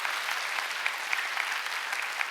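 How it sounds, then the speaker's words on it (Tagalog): A church congregation at a worship service claps for the Lord, with steady, dense applause filling the room at an even level throughout and no talking over it. "bigyan natin ng malakas sa palakpak ang ating Panginoon"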